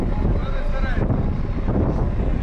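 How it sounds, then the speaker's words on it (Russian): Warm southern wind blows across an open truck-racing festival ground, a steady loud rumble buffeting the microphone for the whole moment with no break. "Дует теплый южный ветер."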